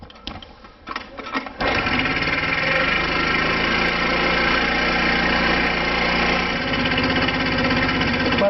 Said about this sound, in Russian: Заводим мопед.